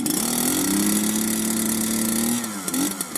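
The small gasoline engine of a GT-3500GE-V VESSEL Euro V certified gasoline impact wrench starts up and runs, its buzzing putter loud and close. The pitch rises and then settles, and the engine sputters unevenly near the end.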